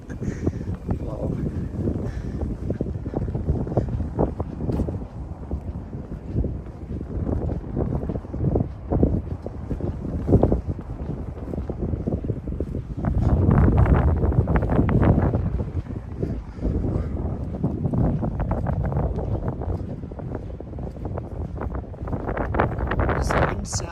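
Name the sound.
heavy wind in Tokyo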